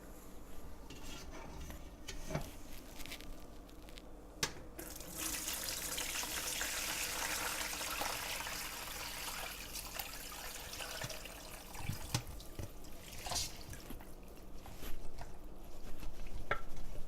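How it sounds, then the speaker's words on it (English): Vegetable and bone broth poured through a strainer into a bowl, a steady watery rush and trickle with clinks of metal against dishware, close and fairly quiet, no talking. "You're going to need a strainer over some kind of a bowl to strain the vegetables and the"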